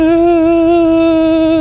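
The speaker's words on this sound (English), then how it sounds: "The whine from the tyre compound" A tyre on a Honda Transalp motorcycle at 100 km/h gives off a loud, steady high-pitched whine. It holds an even tonal drone with a faint rumble beneath and no voices.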